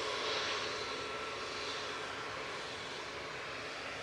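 An aircraft engine spins up at Manchester Airport, a constant, moderately distant whooshing roar holding steady with no voices over it.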